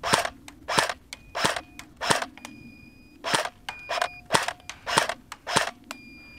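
A Jing Gong AK47 airsoft rifle fires BBs at targets in a run of about a dozen sharp, snappy single shots, spaced unevenly, loud and close with faint ringing between some shots.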